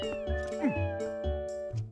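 Video game cats in Zelda Twilight Princess HD give a few distinct, close, loud meows, one with a falling wail, over soft background game music.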